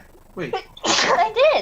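A single sharp sneeze bursts out close by during a tabletop game session, with brief talking just before and a voice right after.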